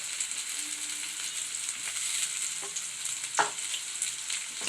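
Onion and tomato stir-fry in a pan for a capsicum egg poriyal, with a steady close sizzle, scattered spatula scrapes and clicks, and one sharper knock near the end, no talking.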